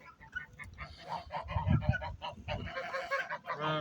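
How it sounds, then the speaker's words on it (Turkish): Several geese honk loudly and repeatedly nearby on village farmland, attacking a man, overlapping harsh calls in a noisy cluster with no talking. "Kazlar saldırıyor adama."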